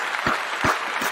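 Three sharp hand claps spaced about evenly, close and distinct, with no talking.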